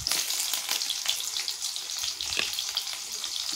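Sliced onion frying in hot oil in a kadai while pork with white gourd is cooked: a steady, close, bright sizzle with fine crackling pops throughout.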